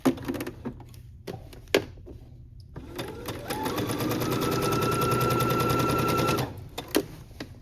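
A sewing machine runs a regular stitch on woven romper fabric, with a few clicks and knocks leading into a steady, fast mechanical whirring burst of several seconds, then more handling clicks afterward.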